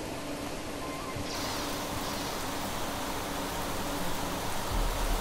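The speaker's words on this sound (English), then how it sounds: "It is raining." Steady heavy rainfall in the sci-fi survival game The Planet Crafter, a dense continuous hiss of rain on surfaces that holds at a constant level throughout, with no voices.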